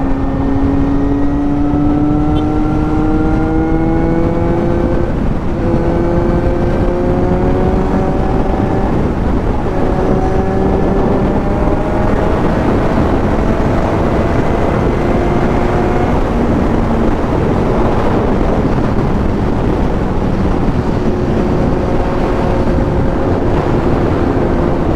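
A Honda CB500X motorcycle on a test ride: engine hum with harmonic tones rising and falling through gear changes, buried under constant heavy wind buffeting, with no talking.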